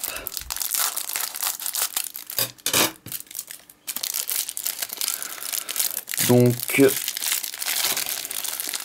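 Plastic packaging of a Pokémon trading card trainer kit crinkles and tears close by, with a few sharp snips of scissors and rustles, while a voice briefly speaks.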